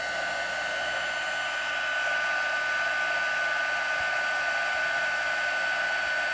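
Heat embossing tool blows hot air steadily over embossing powder on a crafted card, a loud continuous fan-like whoosh with a bright whine, close to the mic and steady throughout with no talking.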